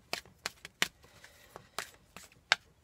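Crisp riffling bursts of a deck of oracle cards being shuffled, several quick flurries and taps spaced irregularly, close by and fairly quiet.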